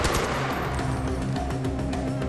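Rapid gunfire from a weapon in the video game Far Cry 4, a dense, continuous burst of shots layered over game ambience and music, loud and close throughout.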